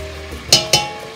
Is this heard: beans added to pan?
yes